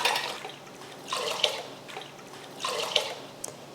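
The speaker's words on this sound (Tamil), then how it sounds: "சாதம் வைக்கிறதுக்கு தண்ணி ஊற்றிடலாம்." Water is poured into a pot to cook rice, coming in three soft rushing bursts with small splashes, fairly close and quiet, with no talking.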